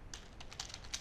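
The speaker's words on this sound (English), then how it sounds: "So let's type in that question." Keys clatter on a computer keyboard as a question is typed into an Excel spreadsheet, a quick uneven run of soft clicks close by, about half a dozen taps in one second with no talking.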